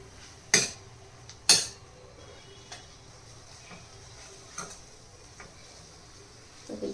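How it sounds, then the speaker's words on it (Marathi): A spoon stirs roasted gram flour through chopped fenugreek leaves in a pan, giving two sharp scraping knocks early on, then softer scattered scrapes and taps over a quiet background. "एवढं टाकल्यानंतर आपण हे ह्याच्यामध्ये छान मिक्स करून घ्यायचं आहे"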